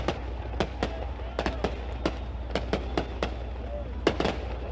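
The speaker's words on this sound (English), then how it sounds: "Fireworks exploding." Fireworks go off after a sprint car race win at a dirt track, with a dozen or so sharp cracking bangs at irregular intervals over a low crowd and ambient rumble, fairly distant.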